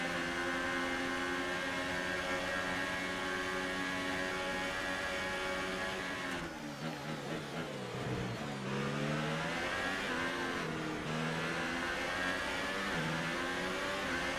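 A Formula 1 car on the Russian Grand Prix street circuit, a loud sustained high-pitched engine whine that sweeps down in pitch as it passes, with further engine drone continuing steadily around it.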